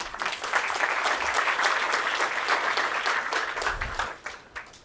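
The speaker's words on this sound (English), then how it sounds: "Let's give her a round of applause." A round of applause from an audience at a learner appreciation event, broad sustained clapping from many people that stays full for several seconds, then thins and trails off with a few last claps.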